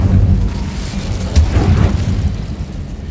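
An explosive Confringo spell blast in Hogwarts Legacy, a loud deep boom with a short burst of crackle and rumble amid ongoing low combat noise.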